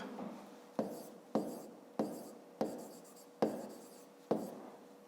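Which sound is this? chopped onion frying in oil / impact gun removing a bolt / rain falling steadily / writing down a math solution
writing down a math solution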